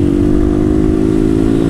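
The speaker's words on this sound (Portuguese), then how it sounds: "Você viu que a moto falhou agora há pouco?" A Honda Twister Flex motorcycle engine runs on diesel fuel, idling loud and close with a steady, slightly uneven drone that hints at misfiring, and no talk over it.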